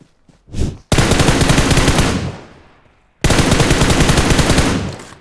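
Machine-gun fire in the video game PUBG Mobile: two long, loud, close sustained bursts of rapid shots separated by a brief pause, with no talk over them.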